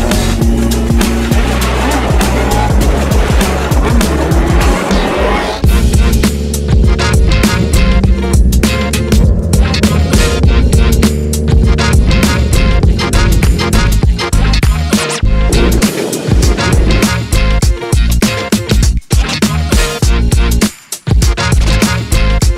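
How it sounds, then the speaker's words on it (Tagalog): Inline-four motorcycle engine running loud and steady for the whole stretch, a dense continuous roar with rising and falling revs, recorded close on a ride toward a resort in Bamban, Tarlac, with no talking. "napakaganda ng tunog ng motor na to dahil inline 4 siya"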